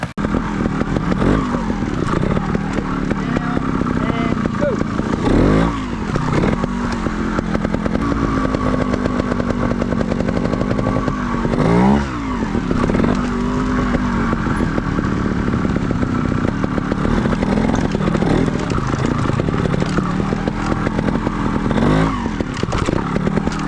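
Sherco two-stroke trials motorcycle ridden slowly over obstacles, its engine buzzing steadily and close by throughout, rising and dipping with throttle blips.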